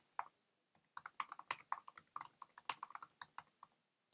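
Fast, uneven clatter of keys being typed on a computer keyboard, close and fairly quiet, with a brief pause near the start and no talking.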